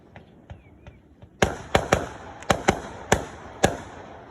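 Fourth of July fireworks burst in a loose sequence, a few faint distant pops followed by about eight loud, sharp explosions at irregular intervals, each trailing off with a crackling echo.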